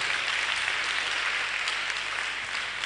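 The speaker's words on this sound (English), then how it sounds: "please keep clapping until they are all seated" Sustained applause from an audience at a Day of the African Child roadshow event as guests take their seats, a dense, steady wash of clapping with no voices.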